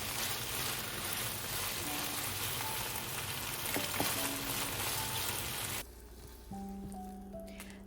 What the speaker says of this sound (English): Add the garlic and cook till fragrance